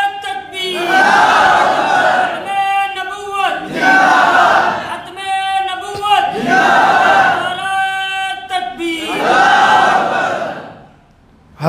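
A large crowd at a religious gathering roars a shouted response to the Nara-e-Takbir chant in four loud, rhythmic bursts, each a massed chorus of voices, with brief pauses between.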